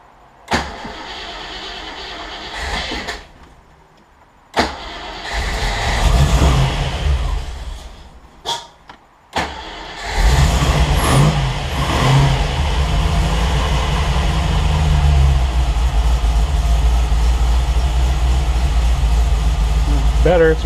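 A cold Triumph TR8 with a Megasquirt-tuned engine cranks, catches and stutters through a few rough starts, then settles into a steady, loud idle close to the microphone, with brief pauses between attempts.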